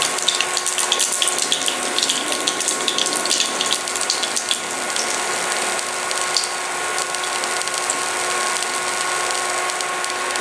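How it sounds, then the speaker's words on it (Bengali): Black cumin (nigella) seeds dropped into hot oil for a yogurt eggplant dish sizzle in a steady, dense hiss with faint crackles. It sounds close and continuous, and nobody speaks. "এবার তেলের মধ্যে কালো জিরা ফোড়ন দিচ্ছি।"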